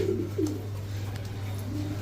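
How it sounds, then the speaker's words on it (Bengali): A pair of Kashmiri racer pigeons coo softly at close range, with a few low burbling calls spread across the moment over a steady background hum. "একজোড়া কাশ্মীরি রেসার কবুতর"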